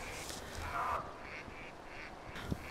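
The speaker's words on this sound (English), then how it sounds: "On the open water, chaos breaks out amongst the mallards. Their calls can be heard throughout the wilderness." Mallard drakes squabble over a hen on open wilderness water, giving repeated raspy quacks and calls at a moderate distance, with a brief splashy scuffle in the middle.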